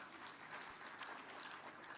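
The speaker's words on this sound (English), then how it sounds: "Please clap for Safaricom Foundation." An audience at the Devolution Conference in Eldoret, Uasin Gishu County, applauds for Safaricom Foundation's 20th anniversary; a steady wash of distant, fairly faint clapping runs throughout.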